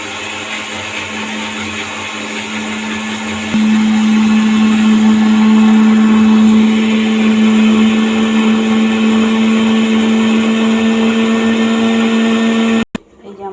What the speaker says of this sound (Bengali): সব এখন বেটে নেবো।